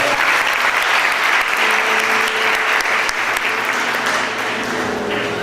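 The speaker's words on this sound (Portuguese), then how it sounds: "Você pode aplaudir, ficar de pé." A church congregation applauds steadily throughout, dense and sustained clapping from a large crowd with a faint tonal hum underneath, no voices standing out.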